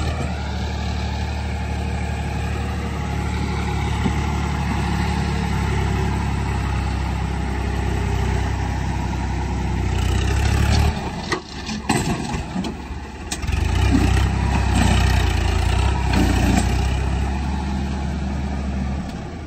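Sonalika 745 III tractor engine idling steadily and loud on a farm, a continuous low diesel rumble with a brief dip and unsteady stretch midway before settling back to a constant idle.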